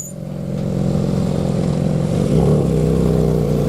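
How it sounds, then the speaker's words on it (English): A Porsche Cayman GT4 sports car drives past with a loud, steady engine roar that holds throughout and swells slightly near the end, with no voices. "Porsche Cayman."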